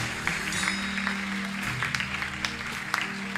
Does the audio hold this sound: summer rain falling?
no